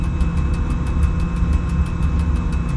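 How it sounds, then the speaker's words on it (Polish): A Star 244 truck engine idles steadily in the MaSzyna simulator game, giving a low, even rumble with a faint regular ticking pulse on top, constant and close with no voices. "jeśli chodzi o dźwięki silników, tak. I to praktycznie wszystkich ciężarówek"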